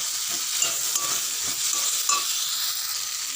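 Fried potato pieces cook in a pan with spices and salt, sending up a steady, loud sizzle broken by occasional scraping stirs of a spoon.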